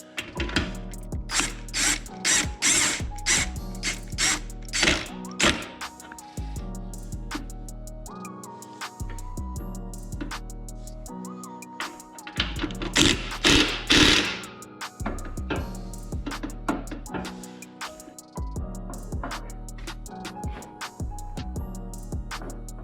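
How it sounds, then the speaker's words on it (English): Impact wrench with a socket during a Legend Revo Arc install, repeated loud hammering rattles in short bursts with pauses between them, close by, with no talk. "Grab my impact."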